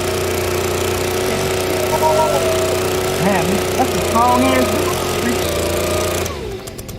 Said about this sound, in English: I broke out the leaf blower.